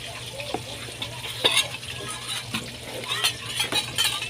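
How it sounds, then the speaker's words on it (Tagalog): Close-up kitchen sounds of chicken frying in a pan, with irregular scraping and stirring clicks over a soft sizzle and low background hum. "prito muna ako ng manok"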